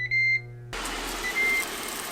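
A Ninja Foodi multicooker gives a short electronic beep when started, a clear pure tone lasting a fraction of a second, followed by the appliance's steady fan hum.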